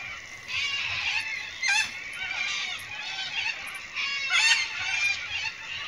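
Birds call repeatedly in the late afternoon, giving harsh, goose-like honking cries in uneven bursts that overlap one another, moderately loud and fairly close, with no talking over them.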